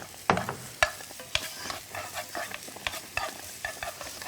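Green onions frying in cooking oil in a preheated pan crackle and sizzle up close, broken by sharp clicks and stirring taps, with no speech.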